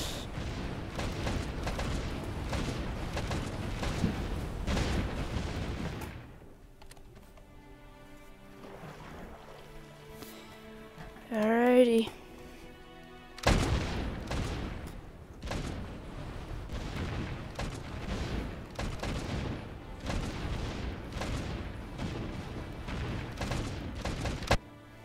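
Artillery bombardment in the Stormworks game: dense bursts of booming, crackling fire fill the scene loudly, drop to a quieter lull with a brief whistling sweep, then resume in heavy sustained volleys.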